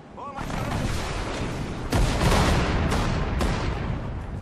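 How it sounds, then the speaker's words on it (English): Sustained gunfire crackles through a Sudden Strike 4 battle at Lake Balaton in a defensive operation, a dense volley with several sharp, loud cracks standing out over a continuous rumble of shooting and artillery. "Somebody's shooting at us."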